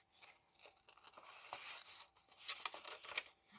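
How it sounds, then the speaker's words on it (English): Long scissors slice through paper in quiet, drawn-out cuts with a soft crisp rasp, accompanied by light crinkling as the paper is handled close by. "this is why I use long scissors when I cut anything"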